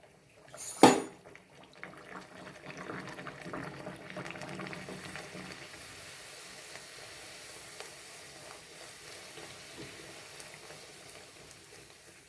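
Drumstick poori dropped into hot oil for frying: a sharp splash at the start, then a steady bubbling hiss that slowly settles, close by with no voices.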